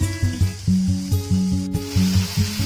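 Rapid rhythmic scraping and stirring of masala in a pan for broccoli pepper fry, with a steady low sizzle underneath, close and fairly loud.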